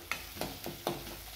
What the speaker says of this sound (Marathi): हे पण छान असं मिक्स करून घ्या